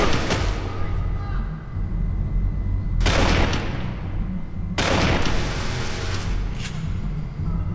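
Gunfire and heavy blasts from the Kane and Lynch 2: Dog Days video game, with two big booming bursts standing out over a constant loud din of battle noise and background game sound.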